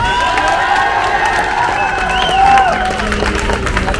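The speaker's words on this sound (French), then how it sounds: "que nous pouvons applaudir" At a pride march in Périgueux, a large crowd applauds, cheers and whoops, with high shouts and whistles rising over a dense, loud wash of clapping and voices.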